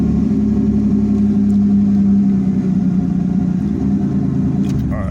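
A 1989 Chevy Camaro with a check engine light fault runs at a steady idle, a continuous mid-pitched engine drone close by, even and unchanging, with no voices.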